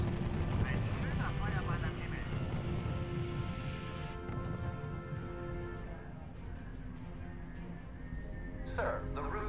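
Gunfire and artillery crack across a battlefield in the RUSE strategy video game, dense bursts of shots and booms layered over continuous rumble, with game voices speaking over the action.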